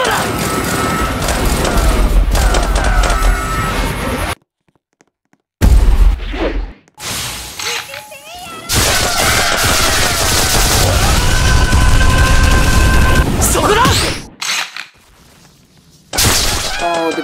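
Bursts of rapid gunfire and crashing impacts in the Roblox game YBA (Your Bizarre Adventure), loud and dense in long stretches broken by short silent gaps, with a voice talking over the action.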